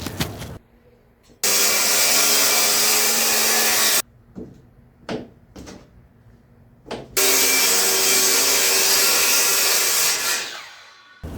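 A power saw cuts 8-inch by 4-inch wooden strips for a spiling board on a wooden sailboat build, two loud sustained whining cuts separated by quiet gaps with scattered knocks and handling clatter.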